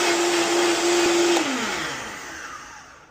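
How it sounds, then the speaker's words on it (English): A kitchen blender purees soup with a loud, steady motor whine that holds for over a second, then winds down and fades as it shuts off. "But with the blender running, you want to add your olive oil or butter or whatever it is that you're using to enrich and flavor your soup."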